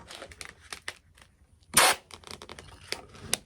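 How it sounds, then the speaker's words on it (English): A short, loud burst of compressed air from an air gun blasts at an epoxy resin bowl, set among scattered clicks and light handling noises. "get an air gun here"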